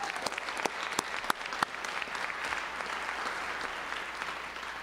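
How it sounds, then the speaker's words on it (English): A modest crowd applauds a football player at a high school football ceremony, with a few sharp claps up front giving way to continuous, even clapping that holds steady to the end. "So let's give him a round of applause if he's watching."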